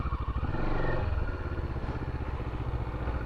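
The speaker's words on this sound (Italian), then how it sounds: "Diamo potenza ai motori. Senti il rombo, senti." A Voge X-Cape 650 motorcycle engine rumbles loudly and steadily nearby, with a throaty pulsing idle and a brief rev near the start.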